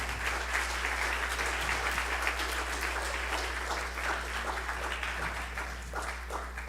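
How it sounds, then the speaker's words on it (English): Audience applause at a church service, a sustained dense wash of clapping from many hands filling the room, steady and fairly loud throughout with no talk over it. "Let's give a round of applause to Hyojin."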